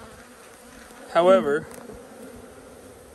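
Honey bees drone steadily inside a hive box packed full of bees, a low continuous buzz that runs the whole time while a voice speaks briefly over it near the middle.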